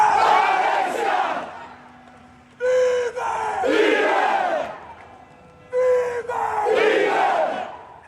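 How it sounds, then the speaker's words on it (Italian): Palermo football supporters chant in unison at a child's funeral church service, a large crowd roaring rhythmic phrases in repeated swells, loud and reverberant, with short pauses between each chant. "Alessia vive, è il coro dei tifosi del Palermo"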